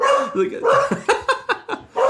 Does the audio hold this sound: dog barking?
yes